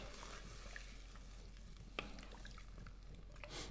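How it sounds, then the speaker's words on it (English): Onions, whole tomatoes and vegetable stock are stirred in a pot, a faint continuous sizzle and bubbling with soft wet sloshes and a light clink of the spoon, quiet and close. "we're gonna give that a stir"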